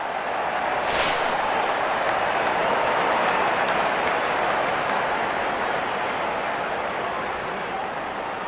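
Steady, dense applause and cheering from a packed cricket stadium crowd at a Gujarat Titans vs Rajasthan Royals match, saluting a boundary; the roar stays broad and even for several seconds without speech.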